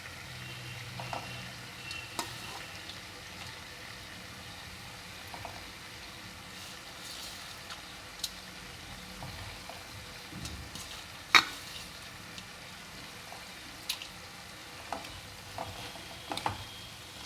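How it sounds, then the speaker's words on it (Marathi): Chopped dill leaves fry in a tempering for a moong dal dish, giving a faint, continuous low sizzle with scattered ticks and sharp clinks of stirring against the pan throughout. "तर चला आता आपण ही शेपू फोडणीमध्ये टाकू।"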